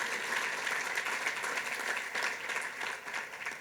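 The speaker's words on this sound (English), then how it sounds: "Big round of applause" A banquet audience at a JCRC gala in New York applauds in a steady, dense wash of clapping that holds at an even level throughout, with no speech over it.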